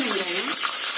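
Shallots and garlic fry in hot oil with curry leaves, dried red chillies and urad dal, a dense close sizzle with a faint stirring scrape; a voice is heard briefly under it.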